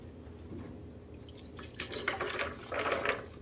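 Liquid pours and splashes into a blender in short uneven gushes, close by, over a steady low background hum.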